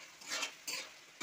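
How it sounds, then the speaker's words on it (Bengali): Pointed gourd (potol) stirred in a pan of spiced oil: two soft, brief scraping sweeps, then the start of a third, all fairly quiet and close. "এখন আমি পটলগুলো ঢেলে দিচ্ছি। ঢেলে দিয়ে এখন কিছুক্ষণ আমি নাড়িয়ে নেব।"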